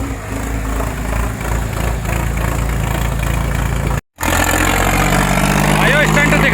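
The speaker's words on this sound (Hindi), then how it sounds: "भाइयों आइसर फिर से चलते देख लो आप" An Eicher 551 tractor engine runs loud and close with a steady low throb, broken by one split-second dropout before it carries on.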